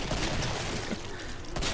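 Shotgun gunfire in the Killing Floor video game, a dense, continuous barrage of loud blasts and booms filling the whole moment without pause.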